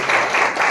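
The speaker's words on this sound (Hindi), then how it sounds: "ताली बजा के परमेश्वर को धन्यवाद" A church congregation claps together to thank God during a Hindi sermon, a dense, loud burst of applause filling the whole short moment.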